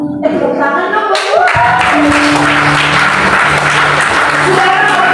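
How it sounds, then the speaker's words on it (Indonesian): Applause from a church congregation in an apartment-hall service in Jakarta, steady clapping that fills the clip, with voices and music tones underneath. "Tepuk tangan dong"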